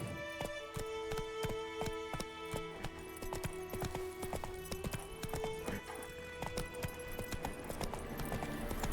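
Roach the horse gallops in The Witcher 3, steady rapid hoofbeats clopping throughout over a layered game soundtrack, with no talking.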